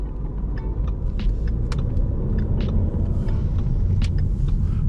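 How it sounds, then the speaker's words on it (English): A Ford Mustang EcoBoost accelerating at night on a city main strip, with a steady deep engine rumble and turbo whine heard from inside the car, loud and continuous, and with no talking. "Hear that Eco Boost turn up."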